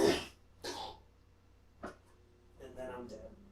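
A man coughs and clears his throat a few times in short, rough bursts, close to the microphone, with quiet gaps between them.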